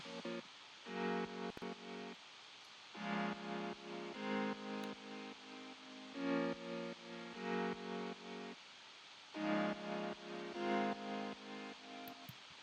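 A sampled grand piano plays future bass chords with the low end cut by EQ, in pulsing, ducking chord stabs that repeat in a steady rhythm, fairly quiet and alone.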